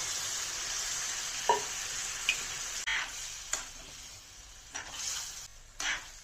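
Curry of jackfruit seeds and taro roots sizzles and fries quietly in a hot pan as water goes in, with a few soft clinks and stirring scrapes scattered through the steady hiss.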